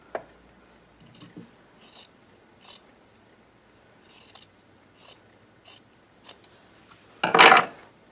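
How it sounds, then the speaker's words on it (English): Scissors snip through fabric to trim a sewing seam allowance down by half, about an eighth of an inch: a series of short, crisp cuts spaced roughly a second apart, close and quiet, ending in a louder, longer snip. "So I'm trimming off half of my seam allowance, which is basically about 1/8 of an inch."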